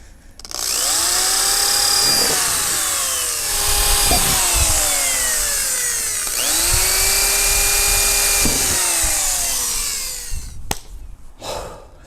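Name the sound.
power drill drilling holes in bumper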